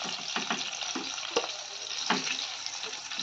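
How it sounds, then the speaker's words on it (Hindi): Paneer frying in a hot pan gives a steady close sizzle with a few brief crackles and pops, and no one speaks over it. "और इसी तरीके से और भी जो पनीर है उसको भी फ्राई कर लेंगे"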